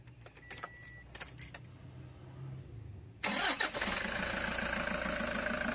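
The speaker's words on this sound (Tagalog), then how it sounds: "i-start ko na itong makina" A Toyota Hi-Ace engine is started: some quiet clicks and key jangle, then the starter catches and the engine fires into a steady, loud idle that keeps running.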